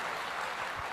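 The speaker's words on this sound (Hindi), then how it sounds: "एक बार डीजे पॉल के लिए ताली बजानी बनती है भाई लोग" Applause from a seminar audience, a dense steady patter of many hands clapping at once, filling the whole moment at an even level.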